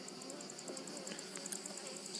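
Honeybees at a hive buzz in a faint, continuous high hum with small flickers as individual bees pass close by, no voices present.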